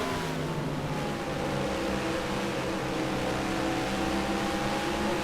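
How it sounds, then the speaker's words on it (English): A stock-style race car in a racing video game holds a high, steady engine whine at elevated RPM on a short track, a continuous loud drone with no talk. "And look how high they bring this RPMs up"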